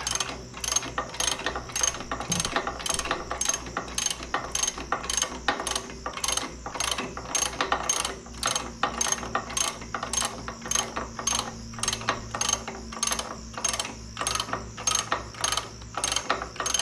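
Hand ratchet tightening a bolt on a 1970 El Camino rolling chassis, a close, rapid, steady run of clicking pawl strokes repeating evenly throughout with no talk.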